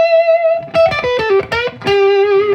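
A Les Paul Custom electric guitar plays clean through coil-tapped single-coil pickups, a short melodic phrase of sustained plucked notes with clear harmonic ring, loud and close with no other sound.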